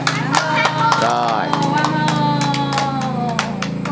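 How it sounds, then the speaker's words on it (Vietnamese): Guests applaud at a birthday party, the clapping fairly steady and close, mixed with voices and a tonal, music-like background throughout. "Đề nghị chúng ta vỗ tay hoan hô."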